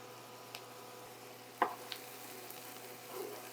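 Garlic stirred into peppers and onions in a pan: a quiet, steady sizzle runs under a few soft scrapes and one sharper clack of a utensil, with the frying slightly louder toward the end.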